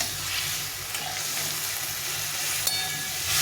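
Tomatoes fry in an oily pan over a high gas flame, giving a dense continuous sizzle with a faint scrape from stirring, close and steady throughout, with no speech.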